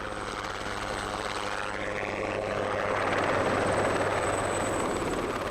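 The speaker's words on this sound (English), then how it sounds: "The helicopter returns to fly the injured man to the hospital." A rescue helicopter flies in near Mont Blanc to evacuate an injured climber, its rotor thudding as a steady loud drone that grows slightly closer and stronger over several seconds, with no voices.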